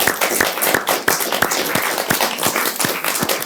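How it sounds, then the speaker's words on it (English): A small audience gives a round of applause, with a quick burst of distinct, close handclaps that hold steady for a few seconds. "Please give Bill a big round of applause."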